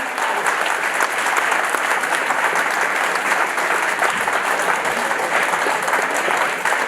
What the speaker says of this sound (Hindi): सभी लोगों से अनुरोध है कृपया इन अभ्यर्थियों का हौसला बढ़ाने के लिए तालियों की गड़गड़ाहट रुकनी नहीं चाहिए